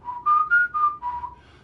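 A person whistles a short run of clear notes, rising then falling in pitch, close and distinct.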